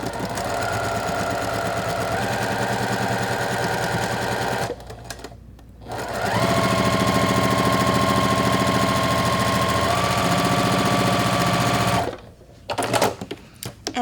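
A sewing machine with a quarter-inch foot stitches a Christmas quilt seam in long, steady, loud mechanical whirring runs. Two brief pauses break the stitching, and a few soft clicks and knocks come at the end.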